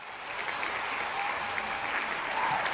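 Dense, steady applause from a livestream audience, a continuous wash of clapping with no voices over it.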